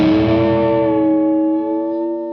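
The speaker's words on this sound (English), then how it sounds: "you just strum that chord. If you wish, you could bend it up, down, back up," A single strummed electric guitar chord rings out through distortion and effects, its pitch bent up and down in a wavering shape and slowly decaying, heard alone and close.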